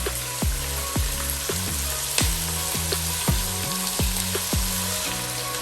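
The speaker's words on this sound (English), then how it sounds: "So this is I've now put my onions, and I'm gonna wait for it to cook till it turns golden brown" Onions frying in hot oil for a beef stew, a dense steady sizzle with frequent crackles and pops, close and continuous, with no one talking.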